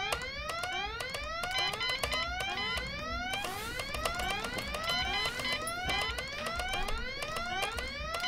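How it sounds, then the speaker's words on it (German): Alarm siren in Goodbye Deponia, loud rising wails sweeping up again and again at a fast steady pace, with no talk. "wir müssen erst den Alarm ausschalten"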